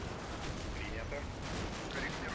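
Mortar fire in the Combat Mission Black Sea war game, a dense rumble of distant blasts and crackling gunfire running steadily throughout, with a voice talking over it.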